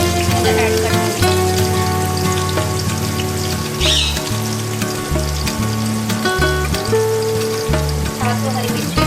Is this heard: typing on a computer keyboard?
no